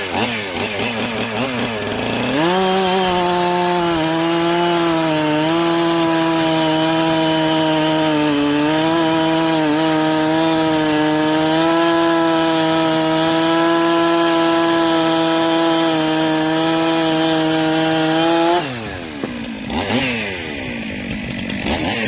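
A 441 chainsaw with a brand-new full-comp chisel chain screams loudly and steadily through wood for about sixteen seconds, then drops off abruptly and revs briefly again at the end.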